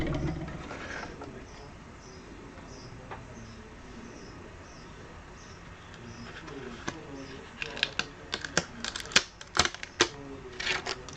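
A hand-cranked Big Shot die-cutting and embossing machine pushes a thin pad through to cut balloon shapes; a steady low rumble builds into a burst of loud, rapid clicking and ratcheting near the end, with no one talking.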